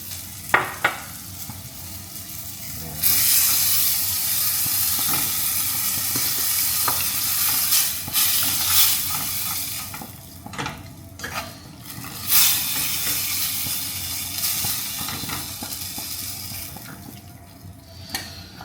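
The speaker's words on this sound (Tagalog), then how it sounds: "Lagay tayo ng konting water from dun sa pasta kanina." Pasta water is poured into a pan of sizzling sardine pasta sauce, setting off a loud, bright hiss that keeps frying and crackling with intermittent stirring scrapes.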